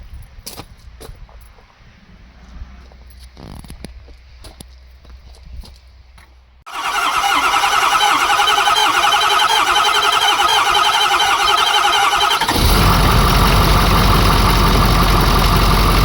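A Ford 6.7 Powerstroke diesel engine, run for the first time in three years, cranks after a stretch of quiet clinks and handling noises, then catches and settles into a loud, steady idle that grows heavier near the end.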